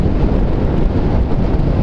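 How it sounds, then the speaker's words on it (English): Strong, gusty wind of 30 to 40 mph buffets the microphone during a motorcycle shakedown run with a Nelson Rigg CL-3000 bag, a loud, continuous low roar with uneven surges and no speech. "the wind is really whipping today. It's 30 to 40 mile an hour gusts"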